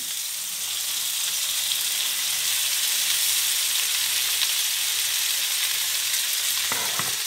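Vegetables for paella frying in a pan while being stirred, a steady loud sizzle throughout with occasional scraping, no talk.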